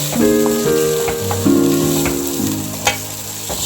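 Soaked sabudana (sago pearls) tipped into a hot sizzling tempering, a steady close frying crackle with stirring scrapes and a few louder pops, no voices.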